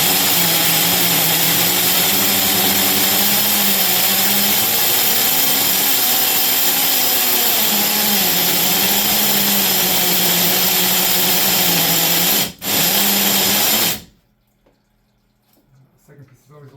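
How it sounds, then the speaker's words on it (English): A hammer drill bores steadily through a wall to install a Senville LETO 12000 BTU mini split heat pump, a loud continuous grinding roar with a wavering pitch that runs about fourteen seconds before cutting off abruptly. "Switch back to the hammer drill."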